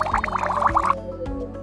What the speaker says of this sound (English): I just made bubbles come out.